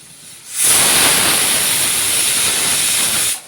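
Loud, steady steam hiss from a pressure cooker cooking beef curry bursts in abruptly, holds continuously for about three seconds, then cuts off sharply; no voices.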